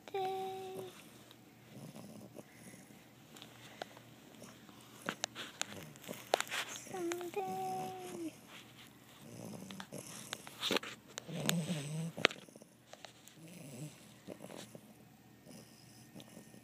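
A dog snores softly and steadily at close range, with low rumbling breaths and some faint shuffling and household noise.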